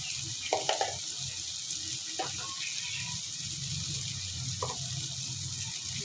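Spices with red chili, coriander powder, black pepper and salt frying in a pan, a faint steady sizzle with a few soft clinks of stirring scattered over it.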